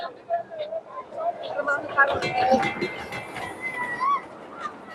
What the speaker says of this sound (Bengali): এই পার্কের একটি ট্রেন বুলেট ট্রেন এটা কিন্তু একটি রাইড